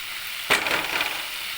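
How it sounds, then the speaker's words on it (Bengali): Garlic and onion slowly frying in a pan, a soft steady sizzle that swells briefly as something is stirred in, then settles into a gentle crackling hiss close by. "কেননা আমি করছি এটা ফ্রাই, আস্তে আস্তে ফ্রাই হবে"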